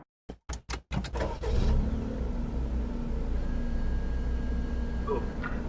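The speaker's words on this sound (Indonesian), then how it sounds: "Kita nyalakan dulu mesinnya." A 2015 Daihatsu Copen engine starts: a few sharp clicks and a brief starter crank, then the engine catches with a rising rev and settles into a steady, close, low idle rumble.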